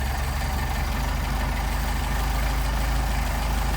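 A Mercedes 190SL engine with Solex carburetors idles steadily, a continuous low rumble held at an even pitch throughout, close and alone with no talking.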